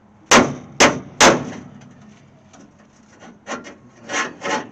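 Steel struck with a hammer against a dolly to straighten the bumper of a 1968 AMX Go Pack, three loud ringing clangs close together followed by softer scraping taps and a few lighter knocks, with no talking.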